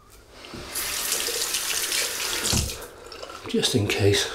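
Cold water running from a tap into a sink to rinse after a wet shave, a close steady splashing rush with the flow shifting as hands move through it, someone talking briefly over it.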